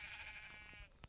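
A single sheep gives one drawn-out, wavering bleat, fairly close and alone, lasting about a second.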